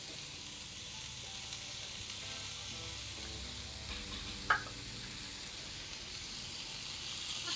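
Radish vegetable stir-fried with grated coconut in a pan in a Konkan-style home kitchen, a soft continuous sizzle with occasional stirring and one sharp clink of a utensil against the pan, no voices.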